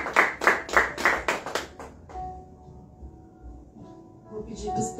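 A church congregation claps in quick rhythmic bursts for about two seconds during a worship service. The clapping then drops off, leaving quiet sustained tones and soft background sound.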